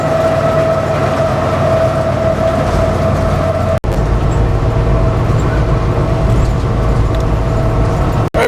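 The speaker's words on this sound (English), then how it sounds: "The train is coming into Laurel" A train rolls steadily on rails through open flat country near Laurel after leaving the mountains, a loud, continuous rumble with low droning engine tones that holds throughout, broken only by two brief dropouts.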